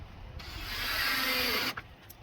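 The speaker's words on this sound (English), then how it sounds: "So now I'm going to do the 4 bolts on top, 10 millimeters." A hand ratchet turning 10 mm bolts on top of a 2017+ Ford Raptor Gen 2 during a light bar kit install gives one sustained, close mechanical rasp of about a second and a half, with no talking.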